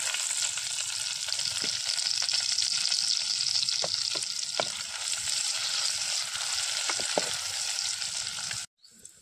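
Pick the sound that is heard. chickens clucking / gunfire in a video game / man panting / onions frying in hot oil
onions frying in hot oil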